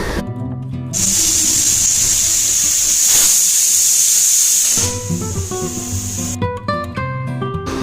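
A pressure cooker holding peas boiled in water with salt lets out a loud, sustained whistling hiss of steam for about four seconds, with steady tonal sounds before and after it.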